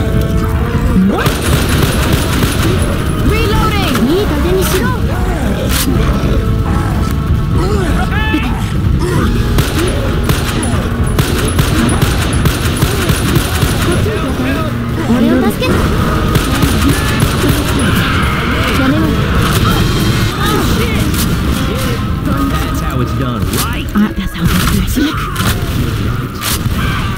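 Gunfire in a video game comes as dense, loud, continuous volleys of bursts and booms throughout, with voices talking and shouting over the shooting.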